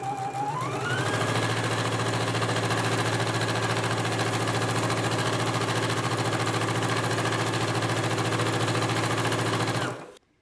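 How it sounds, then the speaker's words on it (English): A sewing machine runs continuously for about ten seconds stitching a 5/8-inch seam on a dress, a fast even motor whir with rapid needle ticking that speeds up at the start and stops abruptly. "I'm gonna continue sewing."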